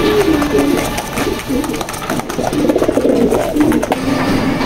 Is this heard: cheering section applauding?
no